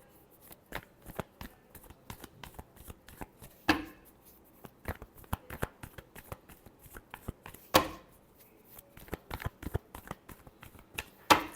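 Tarot cards are shuffled close up, a quiet run of rapid riffling clicks and slaps with several louder bursts spaced a few seconds apart.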